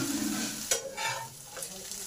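Mustard spice paste is sautéed in a pan, with a low sizzle broken by a few close spoon scrapes and stirring strokes over two seconds, without talking.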